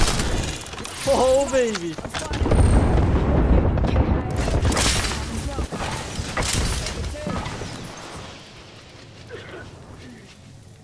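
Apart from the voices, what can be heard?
airstrike explosions in the video game Apex Legends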